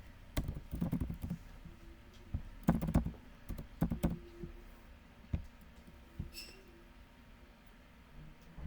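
Keys clack on a computer keyboard in irregular clusters of soft taps, with pauses between the bursts, against a quiet, faintly humming room.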